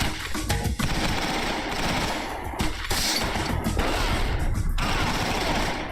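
Rapid submachine gun fire in the shooter game XIII, continuous dense bursts of automatic shots with clattering action filling the whole span, with no talk over it.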